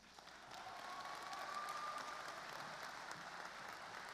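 Steady applause fills a high school graduation ceremony hall, a broad continuous wash of many hands clapping at a distance, swelling slightly and holding for several seconds.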